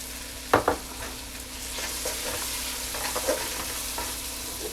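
Leek added to a hot pan with spinach sizzles and fries steadily, with a couple of sharp clatters from stirring at the start and softer scraping taps afterward.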